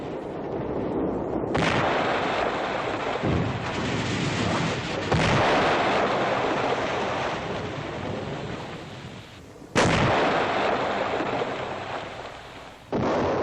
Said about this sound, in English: Under heavy enemy fire, combat engineers out on the incompleted span dash back to shore.